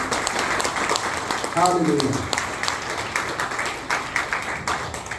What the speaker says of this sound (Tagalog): Salubungin natin siya ng masigabong palakpak.